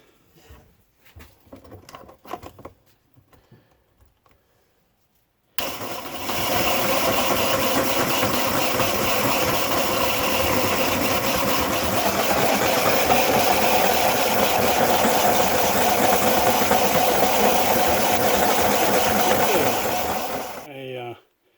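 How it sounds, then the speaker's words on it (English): Coarse grinding wheel working a vintage German swirl glass marble, a loud steady whirring grind with wet hissing that starts abruptly after a few seconds of quiet handling noises and runs continuously before cutting off. "I finished grinding on it as much as I want to with the coarse one."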